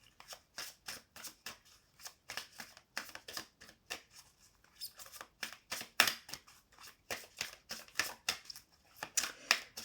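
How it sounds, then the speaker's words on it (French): Oracle cards being shuffled and drawn by hand, a rapid run of crisp papery flicks and riffles in quick bursts, close and fairly quiet, with no talking. "Alors, on va prendre 3 cartes de l'oracle des murmures."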